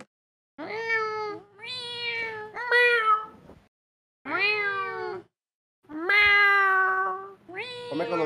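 A pet cat in Minecraft meows loudly and repeatedly, giving five or six drawn-out, close cries separated by short pauses, with no talking.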